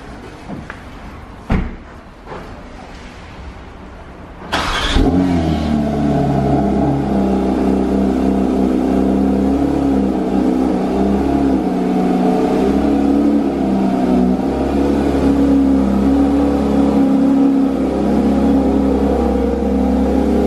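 A new Porsche engine starts after a few faint clicks and thuds, then settles into a steady, loud, close idle rumble with a low hum that holds for the remaining fifteen seconds.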